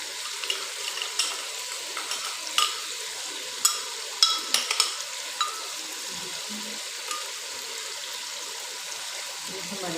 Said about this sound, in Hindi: और अब हम डालेंगे अपनी जो हमने ग्राइंड की है प्याज, फ्राई प्याज थी हमारे पास वो।